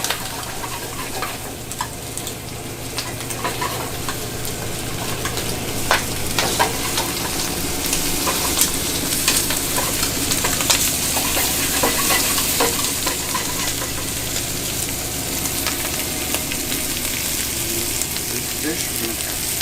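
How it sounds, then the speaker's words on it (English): Onions fry in a pan for a Mexican dish, giving a steady, dense sizzle with scattered crackles and pops that runs unbroken throughout, close and fairly loud, with no talking over it. "Onions. We'll let these start to caramelize up."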